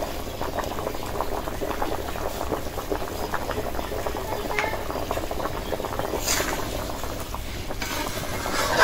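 Meat curry bubbles in a pot, a close, constant simmering burble with a few soft metallic clinks of a spoon.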